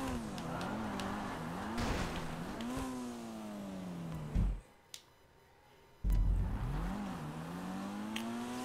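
A race car in a GTA Online race revs and accelerates through repeated gear changes, its engine note climbing and dropping in a sawtooth pattern, then falls quiet briefly before roaring back up.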